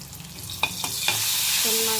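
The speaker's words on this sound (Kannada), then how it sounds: "ಇವಾಗ ಇಂಗು ಸಾಸಿವೆ ಒಗ್ಗರಣೆ ಹಾಕ್ಕೊಂಡೆ ಮೆಣಸಿನ್ಕಾಯಿ ಹಾಕ್ಕೊತಿದ್ದೀನಿ" Green chillies dropped into a hot asafoetida and mustard seed tempering give a steady bright sizzle, with a few sharp spoon clicks against the pan and a rising hiss as the oil takes them.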